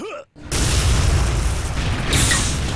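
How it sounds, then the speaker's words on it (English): A rocket blast in the arena shooter Quake on the map Aerowalk, where a player catches his own rocket: a short pause, then a loud, close explosion with a roaring, sustained rumble. "G-Swag rockets himself in the face"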